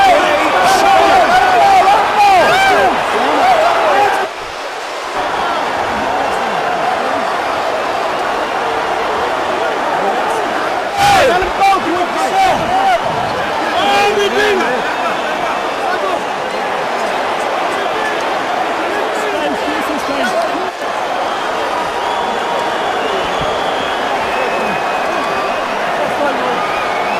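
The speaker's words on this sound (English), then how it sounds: "A stunned crowd here at the MCI Center in Washington" Boxing crowd at the MCI Center in Washington, D.C., reacting after Kevin McBride beat Mike Tyson: a steady, dense murmur of many voices fills the arena under a commentator's continuous talk.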